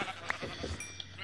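A Minecraft sheep in an FTB modpack gives a short, faint bleat over a quiet game background.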